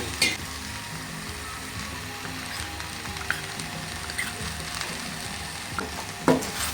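Browned onions with chili powder frying in a pan for chicken curry, a steady low sizzle with occasional sharp stirring clicks and pops, no voices.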